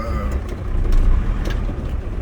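A DAF truck's diesel engine labours on a hill while shifting down through the gears, a steady low rumble with slight surges in revs, heard close from inside the cab without talk.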